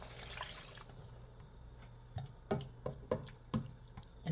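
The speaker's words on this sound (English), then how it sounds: "So I'm gonna put the water, the 2 cups of water." Two cups of water poured into a cooking pot for pampano sinigang, heard as a near trickle and splashing with several sharp drips and plops toward the end, no voices.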